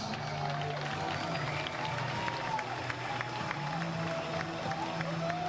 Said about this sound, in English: For the United States, a big round of applause for Tony Spredeman